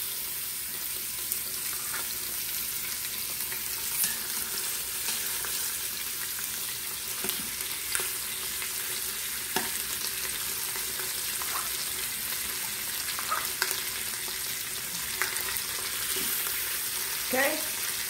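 Chicken skin crisping in an Instant Pot for jerk chicken gives a steady, moderately loud frying sizzle with a few scattered clicks and pops over eighteen seconds, without any talk.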